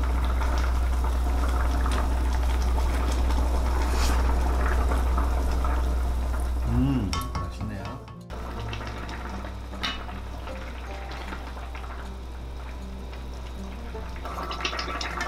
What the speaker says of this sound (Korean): 뚜껑을 닫고 10분간 팔팔 끓여줍니다.